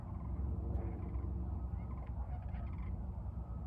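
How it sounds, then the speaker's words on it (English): Large birds gobble loudly nearby, a turkey-like rattling call that rises and repeats over a low, rough background. "There's some big birds. You might have heard them making some noise"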